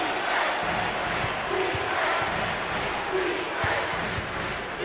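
A basketball arena crowd at an SEC tournament game between Arkansas and South Carolina cheers and roars in a steady swell as a player pumps them up, with a few rhythmic thumps under the din.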